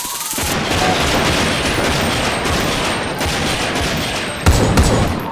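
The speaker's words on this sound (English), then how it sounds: "Shots fired" A dense, continuous barrage of gunfire in the GTA video game sounds loud and close, with a sharper burst near the end and no talking.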